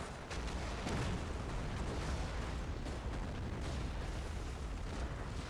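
Artillery barrage in a war video game pounding rifle squads, a dense rumbling wall of overlapping explosions and booms that stays loud and continuous, no voices.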